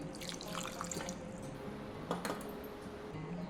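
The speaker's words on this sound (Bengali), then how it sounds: "এটা আমি এখন একটা পেস্ট বানিয়ে নেব একটু জল দিয়ে পেস্ট বানিয়ে নেব" Water trickles and splashes into ground almond, cashew and cinnamon to form a paste, a steady close-up pouring with a few brief louder splashes, no voices.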